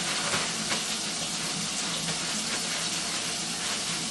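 Water runs steadily from a sink faucet during hand washing, a continuous hissing splash that stays even and fairly close for the whole stretch.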